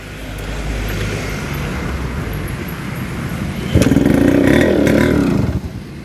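A Yamaha RX 100 motorcycle engine idles with a steady, close rumble, then revs up sharply into a loud, rough burst for about two seconds before easing off. No one speaks.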